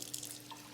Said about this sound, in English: you'll actually just put a little bit of water in to cover it